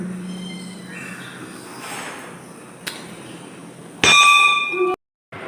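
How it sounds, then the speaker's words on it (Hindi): A single bright temple bell strike rings out with a shimmering metallic tone, sustaining for about a second before cutting off abruptly, after quiet ambient noise. "एक बार घंटी तो जरूर बजा के जाएंगे"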